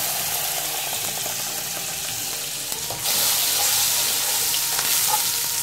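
Four tablespoons of butter melting and sizzling in a pan for white sauce, a steady close frying hiss that grows louder and brighter about halfway through, with no talking.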